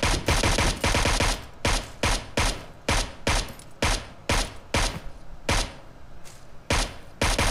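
Rapid bursts of SMG gunfire from the video game PUBG Mobile, a string of loud close automatic volleys separated by brief pauses, heard alone.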